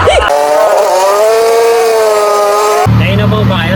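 A motorcycle with a turbo fitted strains uphill, its engine whining loud and close with rising and falling revs before the tone drops abruptly.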